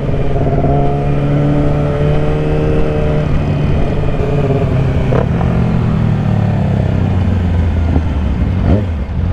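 A motorcycle engine revs loudly inside a tunnel, echoing, pitch falling as it decelerates, with a few sharp exhaust pops near the end.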